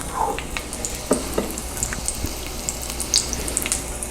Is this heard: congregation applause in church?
no